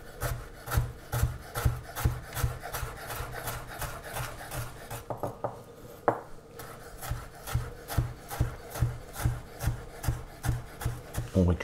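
A knife chops frozen oysters for tartare on a board, a fast regular run of gritty rasping strokes, close and steady, with a brief pause partway before the rhythm picks up again.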